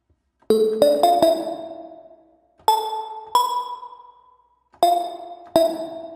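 Bright plucked bell-and-prism preset from the Funky Fingers VST plugin, playing a sparse riff of ringing chimed notes in three short phrases, each note decaying cleanly into silence.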